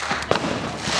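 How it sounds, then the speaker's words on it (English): Fireworks burst near a wet road, one sharp bang standing out amid a steady wash of crackling noise. "What do you think of all the fireworks?"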